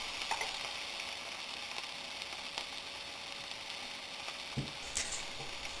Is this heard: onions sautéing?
yes